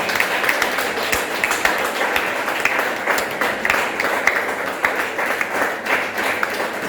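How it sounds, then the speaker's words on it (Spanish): A church congregation during a sermon applauds: steady, dense crowd clapping with some sharper individual claps standing out, continuing evenly for several seconds. "Denle un fuerte aplauso al Señor."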